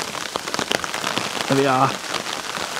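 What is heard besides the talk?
raindrops falling on a tarp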